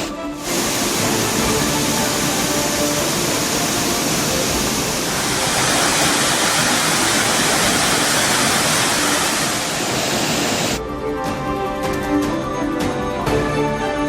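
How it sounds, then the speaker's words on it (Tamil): Heavy rain has swollen the Courtallam waterfalls into a flood, and their roar fills the air as a dense, continuous rush that stays loud and steady throughout before the texture shifts near the end. "கனமழை காரணமாக குற்றால அருவிகளில் தொடர்ந்து வெள்ளப்பெருக்கு."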